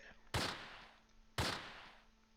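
Two sharp, loud shots from machine gun fire in the World War II video game Close Combat, set at Arnhem. They come about a second apart, and each fades with a short echoing tail over a quiet background.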